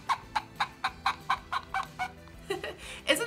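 A string-and-cup noisemaker imitates a chicken's clucking, a series of short, evenly spaced squawky pulses close up, growing rougher toward the end.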